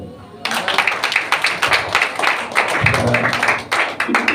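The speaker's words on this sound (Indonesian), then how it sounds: "Tepuk tangan dulu dong." Congregation clapping at an Easter church service, breaking in suddenly after a brief quiet moment and continuing as a dense, steady patter of many hands, with some voices mixed in underneath.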